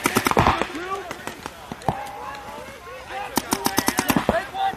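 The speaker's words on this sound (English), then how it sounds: "Rob Velez is shooting cross field on him." Paintball markers firing during a pro team practice on an NXL tournament field, with rapid bursts of sharp pops in quick strings and scattered single shots mixed with distant voices.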